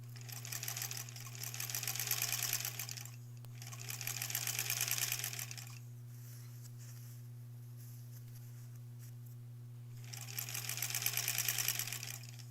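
A sewing machine stitches a quilt border seam in three bursts of rapid, even whirring over a steady motor hum, with a quiet pause between the second and third runs.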